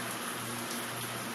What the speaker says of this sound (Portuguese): Eu amo a chuva.